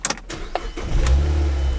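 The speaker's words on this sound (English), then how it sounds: "Let's go ahead and turn on the car." A car engine starts after a few clicks and a brief crank, settling into a steady low idle close by.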